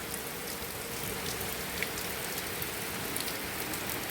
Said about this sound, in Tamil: மழை ஃபுல்லாக மழை பெஞ்சிக்கிட்டே இருக்குது